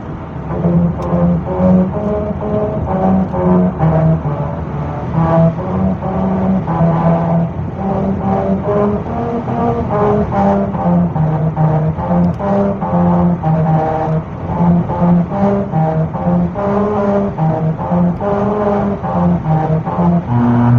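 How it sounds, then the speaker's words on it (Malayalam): Car tires rolling over the musical rumble strips on a Fujairah road drone out a continuous, loud, tonal hum that steps through a melody of changing pitches for about twenty seconds without pause. "നമ്മുടെ ഫുജറായിലെ മ്യൂസിക്കൽ റോഡ്, നമ്മുടെ വാഹനത്തിൻ്റെയൊക്കെ വേഗത കുറയ്ക്കാൻ ഉപയോഗിക്കുന്ന റംബിൾ സ്ട്രിപ്സ് ഉപയോഗിച്ചാണ് ഇവിടെ ഇത് ചെയ്തേക്കുന്നത്"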